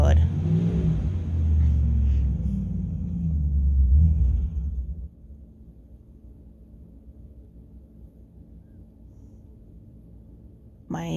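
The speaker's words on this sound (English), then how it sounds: "My neighbor has a hard time getting his vehicle started, so sometimes we just hear rev for like 20 minutes." A neighbor's vehicle revs as it struggles to start. A heavy, low engine rumble runs loud for about five seconds, then drops to a faint idle-like hum.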